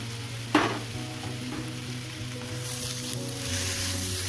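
Poha ingredients with sugar and roasted peanuts stir-frying in a pan, a steady close sizzle with regular scraping stirs and one sharper knock near the start, no voices.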